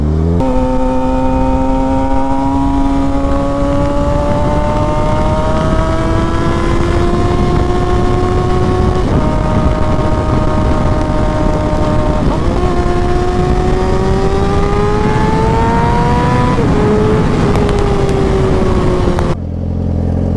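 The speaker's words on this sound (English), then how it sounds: "I like your bike. Is it pretty quick? This is a GSXR 600." A Suzuki GSX-R 600 motorcycle being ridden, its engine droning loud and steady with rising pitch through the gears, wind roar throughout and a brief drop near the end.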